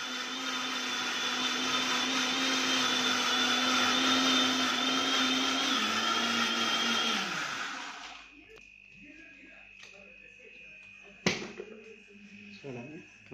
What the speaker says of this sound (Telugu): బాగా నలిగే వరకు మిక్సీ ఆడించాలి.